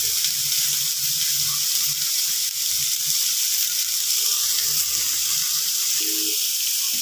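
Beans and other vegetables fry in a pan with a steady, loud sizzle and hiss that runs unbroken throughout, with faint clinks underneath.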